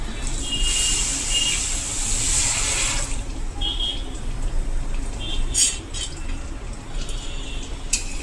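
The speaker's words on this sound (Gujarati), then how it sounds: "હવે ખાંડ બુડે તેટલું પાણી નાખીશું।" Water poured from a vessel onto sugar in a pan for making syrup, a loud splashing pour lasting about three seconds, followed by quieter kitchen sounds and brief clinks.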